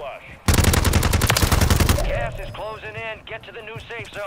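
A loud, rapid burst of automatic gunfire in Call of Duty: Warzone rattles for about a second and a half, then gives way to someone talking.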